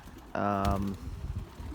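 Racing pigeons in a stock loft give a short, close, rounded coo, followed by soft rustling, with someone speaking nearby.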